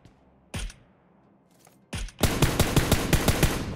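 Automatic gunfire in PUBG, two short isolated shots followed by a rapid, loud burst of evenly spaced rounds.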